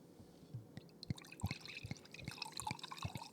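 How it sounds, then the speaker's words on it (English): A freshly poured carbonated drink fizzes in a glass, with a scatter of small crackling pops and bubbling ticks close by, irregular and fairly quiet, without talk. "You can even hear the sizzling. And the bubbles."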